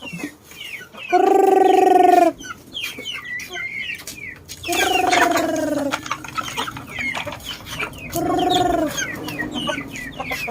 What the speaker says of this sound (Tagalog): And Noki is here. My favorite chicken.